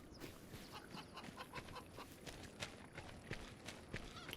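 Chickens on a farm cluck and scratch about close by, quiet short pecking and shuffling sounds scattered through a soft outdoor background.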